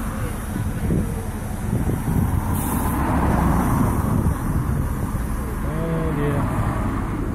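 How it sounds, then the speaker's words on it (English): Steady road traffic noise in a stationary traffic jam, a continuous low rumble of cars and a bus with wind buffeting the microphone, with brief voices now and then over it. "Long time traffic jam."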